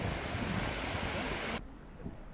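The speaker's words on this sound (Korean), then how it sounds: "폭포 한번 보고, 흐르는 물 한번 보고" Flowing water of a waterfall on the north slope of Mount Baekdu gives a steady, loud broadband rush that cuts off abruptly partway through, leaving a quieter, softer water hiss.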